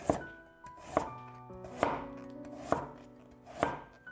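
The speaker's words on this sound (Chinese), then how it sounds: "下面准备一根去皮的胡萝卜，先切成薄片" A knife cuts a peeled carrot into thin slices on a board, with five sharp, resonant chops about a second apart, close and clear with no speech.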